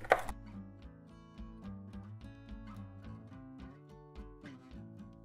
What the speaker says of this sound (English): I'm just going to roughly chop